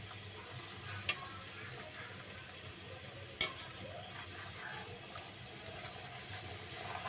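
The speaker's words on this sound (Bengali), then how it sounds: "এখন আমি যে কয়টা লুচি ভাজবো সবগুলোই হবে ঘিয়ে ভাজা লুচি" Whole-wheat luchi flatbread deep-frying in ghee, a soft continuous sizzle with faint bubbling and a couple of sharp clinks.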